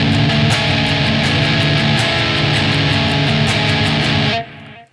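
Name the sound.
distorted electric guitar chord on lower strings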